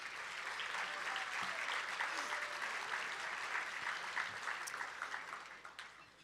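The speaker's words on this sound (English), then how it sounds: "Let's give all of our sponsors another round of applause." An audience at a Boys and Girls Club Youth of the Year event applauds its sponsors, a fairly faint, sustained wash of clapping from a crowd that thins and tapers off at the end.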